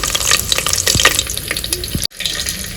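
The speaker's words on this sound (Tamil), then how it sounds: "நம்மளோட கடுகு கடலைப்பருப்பு எல்லாம் பொரிஞ்சிருச்சு" Mustard seeds and chana dal splutter in hot oil, making close, dense crackling and sizzling with sharp scattered pops throughout and a brief drop near the end. No one speaks.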